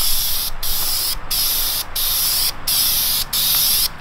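A steady, loud hiss of a spray gun applying bed liner coating to a street go-kart, cut off by short pauses about every two-thirds of a second, with no talking.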